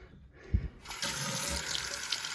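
Hot water from a sink tap, being flushed after rust came out of the line, starts with a thump and then gushes steadily in a loud, continuous hissing splash close by.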